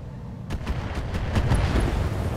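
Mortar fire in the mech combat game Roguetech: a quick series of about six sharp booming thumps, close and loud, over a low rumbling background.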